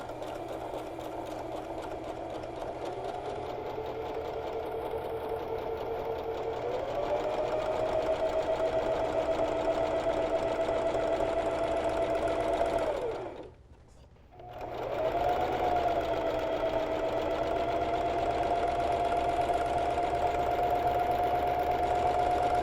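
Straight seam stitching on a sewing machine along the flat side of a tee, a steady, close motor whir with a rising pitch, one short stop midway, then an even run to the end.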